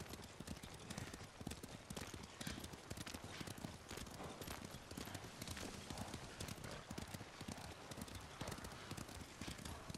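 In the samurai game Ghost of Tsushima, horses' hooves clip-clop steadily and briskly on the ground, a dense continuous rhythm of close, crisp footfalls with faint background noise.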